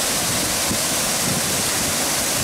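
A waterfall at Thousand Springs, fed by spring water, makes a loud, unbroken roar of rushing, splashing water with no voices over it.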